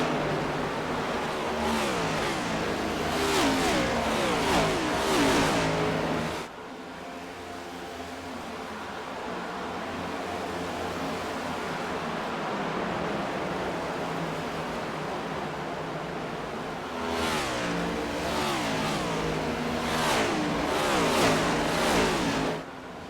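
Race car engines roar in a racing video game at the Homestead track, a pack of cars in a cup series race passing in a dense, continuous drone with rising and falling revs, loud and steady throughout.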